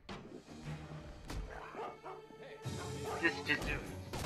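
A dog barks and yips in the stealth game Mark of the Ninja Remastered, a few sharp barks and whimpers near the start, then louder barking at the end, mixed with other game sounds.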